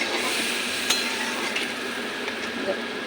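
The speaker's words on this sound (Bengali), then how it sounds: "এখন অল্প করে জল দিয়ে দেব জলটা পুরনের সঙ্গে মিশিয়ে নিই" Steady close sizzle and stirring as water is mixed into a spice paste in a cooking pan for a small rohu fish curry, a continuous hiss with a few faint utensil taps.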